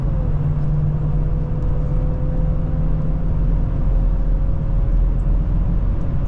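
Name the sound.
supercharged 2025 Ford F-150 accelerating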